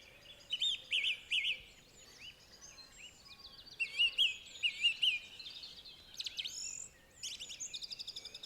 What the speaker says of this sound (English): we've got this song thrush here